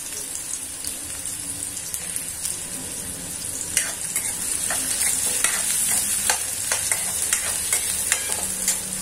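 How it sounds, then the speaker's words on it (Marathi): Onions frying over a high flame until crisp, for spiced potato poha: a steady, dense sizzle fills the whole stretch, with scattered crackles and pops and occasional spoon scrapes close by. "कांदा छान भाजून घ्यायचा, क्रिस्पी होऊ द्यायचे, फास्टच ठेवायची फ्लेम।"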